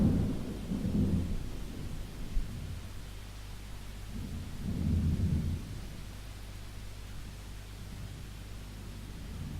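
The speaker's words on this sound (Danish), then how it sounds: "Regner det også." Steady rain hisses throughout, with two deep thunder rumbles rolling in, one at the start and one midway. No voices.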